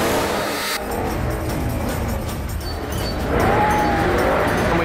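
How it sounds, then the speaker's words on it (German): Two cars drift around London's Piccadilly Circus during a Fast and Furious 6 race scene. Their engines roar steadily, close and loud, and a rising tire squeal comes in near the end. "Zwei Autos driften um den Londoner Piccadilly Circus mit 400 Zuschauern."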